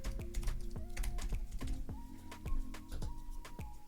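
Computer keyboard keys click as a store name is typed, a quick uneven run of taps up close over a faint repeating electronic tone, with no speech.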